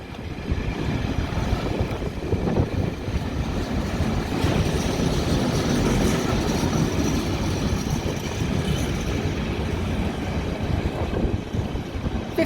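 A Class 66 diesel locomotive, 66763, hauls a freight train past at Kensington Olympia, a steady loud rumble and rolling wagon clatter lasting throughout with wind buffeting the microphone.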